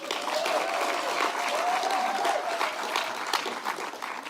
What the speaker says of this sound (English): Clap for Amos!